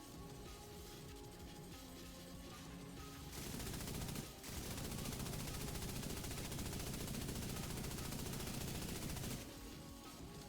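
Light machine gun fire in The Division 2, a long, loud, continuous automatic burst with a brief pause, over steady game background noise.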